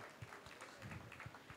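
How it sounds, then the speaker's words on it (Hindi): An audience at an indoor launch event for B Natural fruit beverages applauds with steady, soft clapping that stays faint and fairly distant throughout. "तो a big round of applause."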